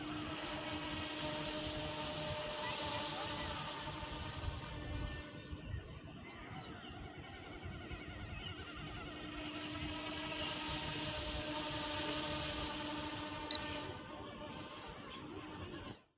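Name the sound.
RC helicopter flying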